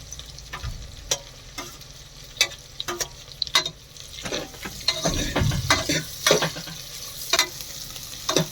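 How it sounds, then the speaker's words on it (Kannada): Garlic and onion fry in a pan with a steady sizzle, broken by a run of sharp, close spoon clatters and scrapes as the mixture is stirred. No one speaks. "ಬೆಳ್ಳುಳ್ಳಿ ಹಾಕ್ತಾ ಇದ್ದೀವಿ ಈರುಳ್ಳಿ ಹಾಕ್ತಾ ಇದ್ದೀವಿ"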